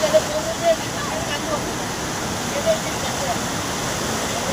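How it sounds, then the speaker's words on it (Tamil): Jogini Falls near Manali pours down from the mountainside, a constant broad roar of falling water with no break, a few faint sharp sounds rising briefly over it. "மலை மேலேருந்து தண்ணி வந்து கொட்டிகிட்ருக்கு."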